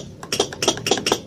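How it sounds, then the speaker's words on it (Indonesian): A rapid series of sharp, light clicks from the starter switch of a Honda Vario 110 fuel-injected scooter that fails to start, about six in a row in quick uneven rhythm, close by with nothing else around. "itu suara switch starter"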